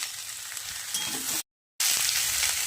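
Vegetables with green chillies frying in a pan, a steady crackling sizzle with stirring scrapes, briefly cut by a moment of silence before resuming slightly louder.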